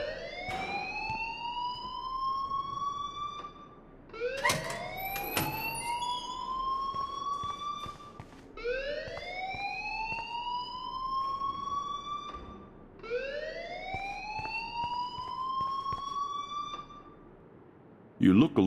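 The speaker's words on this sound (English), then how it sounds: "please turn off that alarm since that's your job" A wailing alarm in the video game Life is Strange rises and falls in repeated siren-like sweeps, steady and fairly loud, with a brief burst of noise at the end.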